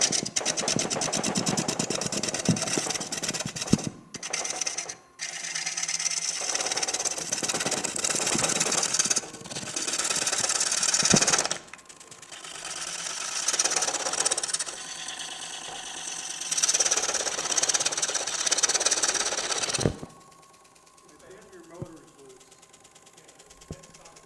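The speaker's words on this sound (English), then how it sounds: "This lathe is not sitting flat on the floor." A wood lathe that is not sitting flat on the floor runs in a woodturners' production-turning session, rattling and vibrating in a loud mechanical clatter that comes in bursts with voices speaking, then stops, leaving quieter room sound.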